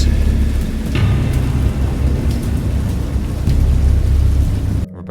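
A steady thunderstorm roars with heavy rain and low rumbling thunder, loud and continuous before cutting off abruptly.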